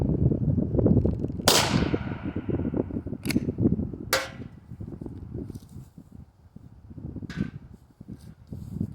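Four sharp gunshots of factory ammunition fired over a chronograph ring out outdoors at uneven intervals, each a crisp crack standing above a steady rumbling background with no talking.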